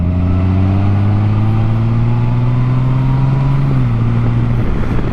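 A 2022 Honda Goldwing DCT motorcycle accelerates in tour mode, its engine drone steady and loud, rising gradually in pitch over several seconds before easing slightly near the end without any gear change.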